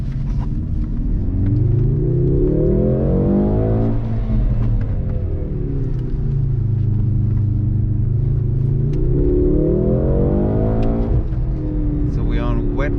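Mercedes-AMG C63 four-cylinder engine switched into race mode on a wet road, heard from inside the car as a loud deep rumble that revs up twice in rising sweeps and settles back, with occupants talking over it.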